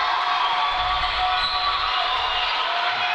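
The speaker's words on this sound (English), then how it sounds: "The crowd roaring their approval." A basketball arena crowd roars during player introductions for an Indianapolis Wildcats versus Omaha Roadrunners game, a steady, dense wash of cheering that holds loud throughout.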